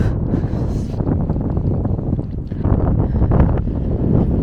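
Strong desert wind roaring steadily and loud across the microphone, a continuous buffeting rush with gusty surges and no voices.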